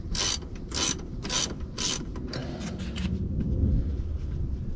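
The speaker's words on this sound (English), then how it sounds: "take your ratchet wrench" A ratchet wrench turns the yoke nut on a Jeep XJ transfer case in a series of sharp clicking pulls, followed by quieter mechanical rattling, all close and with no speech.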